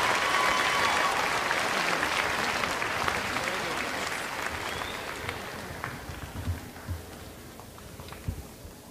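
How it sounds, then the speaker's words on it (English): Sustained applause from a large commencement audience honoring graduates, loud and dense at first, then thinning and fading with a few scattered claps near the end. "Please join me in applauding the graduates from the College of Languages and Communication."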